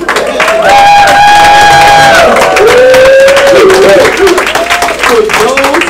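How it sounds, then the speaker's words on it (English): An audience breaks into loud applause and cheering for Odessa Hopkins at a business bootcamp event, with whoops rising over steady clapping and sustained tones running underneath. "I want you guys to give a hefty round of applause to Odessa"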